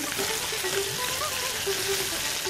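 Ginger frying in a pan as the base of a vegetarian chholar dal, a steady, close sizzle with soft crackling and popping throughout, no voices over it.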